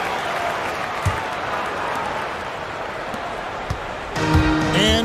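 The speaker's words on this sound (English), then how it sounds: "Nice round of applause for your 76ers team." A basketball arena crowd claps and cheers for the Philadelphia 76ers during a timeout against the Denver Nuggets, a broad steady wash of applause with a few sharp thuds and squeaks, under a commentator's voice.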